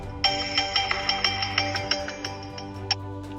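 A phone ringtone chimes in a rapid series of bright, bell-like electronic tones, loud and close, repeating rhythmically for about three seconds with no talk.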